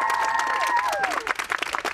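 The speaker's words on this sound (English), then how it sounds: "Oh, you can clap if you like." Studio audience applauding outdoors for a BBC Breakfast farewell, brief scattered clapping under a warbling tonal sound that fades, with a voice faintly audible.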